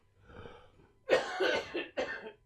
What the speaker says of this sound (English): we've had a cough for like a week